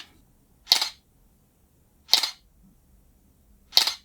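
The shutter of an opened camera fires three separate times, roughly 1.5 seconds apart. Each click is crisp and close against an otherwise quiet background.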